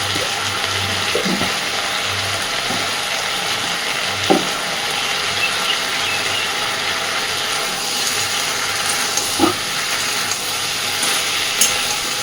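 Okra with a pinch of sugar frying slowly in a pan, a steady close sizzle with a few soft scraping stirs scattered throughout.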